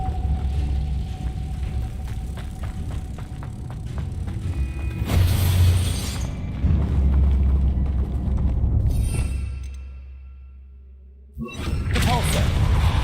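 Confringo fire-blast spell cast in the Hogwarts Legacy video game: loud, booming bursts of explosive rumble and whoosh, one midway and another near the end, over continuous game background sound.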